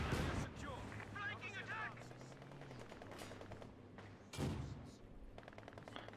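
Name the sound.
machine gun and mortar fire in a World War II strategy video game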